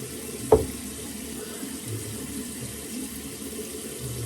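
A bathroom tap runs steadily during a face and beard wash, giving a close, even stream of water with one brief knock near the start.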